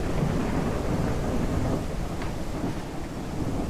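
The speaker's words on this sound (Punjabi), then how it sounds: "ਬਾਹਲੀ ਆਵਾਜ਼ ਆ ਮੀਂਹ ਦੀ ਮੁੰਡਿਓ" Heavy rain pouring steadily in the farming video game Ranch Simulator, with a dense continuous roar of rainfall and low thunder rumbling underneath throughout.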